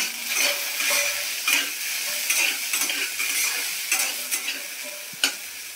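Okra sizzling in a pan on low heat while a spatula stirs it, steady bright frying hiss with repeated scraping strokes, close and fairly loud.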